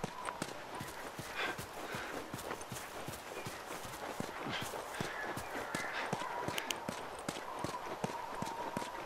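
Horse hooves in the video game The Last of Us Remastered, a steady rapid clip-clop of a horse trotting close by, with faint ambient noise underneath.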